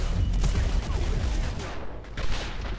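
Gunfire in the shooter Singularity, a steady barrage of sharp shots and blasts, loud and close, with brief dips before a final burst.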